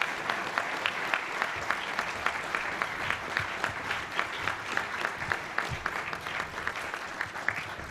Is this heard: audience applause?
yes